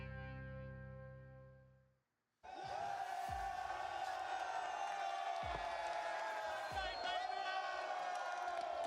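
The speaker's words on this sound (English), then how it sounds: "This crowd is insane" A crowd at an esports event roars and cheers loudly and continuously after a short musical lead-in, with thumping impacts and distorted sound cutting through the din.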